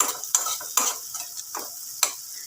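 A pasta sauce seasoned with garam masala frying in a pan, with a steady sizzle broken by several sharp scrapes as it is stirred, close up and with no talking.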